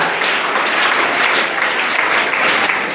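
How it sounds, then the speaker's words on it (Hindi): Dense, loud applause from an audience at a school quiz final honouring Premchand Jayanti, rewarding a quiz team, steady and continuous throughout with no talk over it. "इनके लिए फिर से जोरदार तालियां बजा के उन्होंने एकदम सही उत्तर दिया है।"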